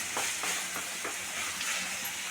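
Salted tomatoes fry in a pan and are stirred, with a steady hissing sizzle broken by a few soft scraping strokes of the spoon, close and alone.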